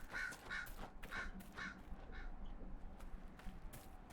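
A bird in the video game Dragon Age: Inquisition caws in a quick run of harsh calls, fairly near and distinct, followed by softer ambient rustle without talk.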